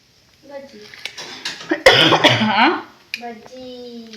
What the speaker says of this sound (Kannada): ನನಗೆ ಕೆಮ್ಮು ಬರುತ್ತೆ